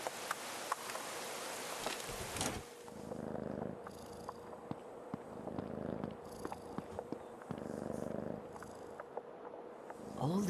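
A cat in the horror adventure game Creepy Tale 2 purrs softly and continuously, a low rhythmic rumble pulsing in slow cycles, faint and close with no talk.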